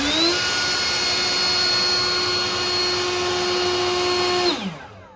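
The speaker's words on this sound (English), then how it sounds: "This is just a simple leaf blower" A battery-powered Greenworks 80V leaf blower running on a Sydelway replacement battery whines steadily at high pitch for several seconds, then shuts off and winds down quickly.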